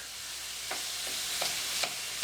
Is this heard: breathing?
no